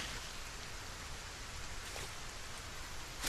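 Steady rainfall in the video game Solarpunk, a dense, even hiss of drops that fills the whole stretch with no talking.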